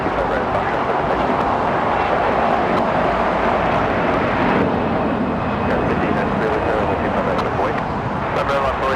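A SkyWest CRJ-700 ER regional jet at Los Angeles gives off a steady, broadband roar that holds at a constant level throughout, with wind buffeting the microphone and voices talking beneath it.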